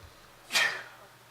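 A single sharp sneeze rings out in a quiet meeting room during an engineering board session, sudden and fairly close, then fades.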